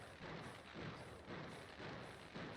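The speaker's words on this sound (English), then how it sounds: "I don't like this fireworks sound." Fireworks in the video game Farm Together 2 go off as a run of soft repeated booms and crackles, about every half second, faint and muffled with no voices over them.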